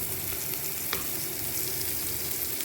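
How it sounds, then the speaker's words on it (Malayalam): A fish-flavoured snack frying in oil in a pan, giving a continuous close crackling sizzle with a faint clink partway through and no talk. "ഇങ്ങനെ നമ്മളങ്ങോട്ട് വറുത്തെടുക്കുക"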